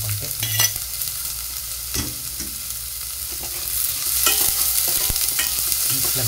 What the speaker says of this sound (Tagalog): Ginisang repolyo ang ating lutuin.